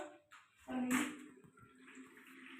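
Water running into a bath, a soft rushing splash that swells after a brief pause and then settles into a steady gentle flow, heard close with no talking.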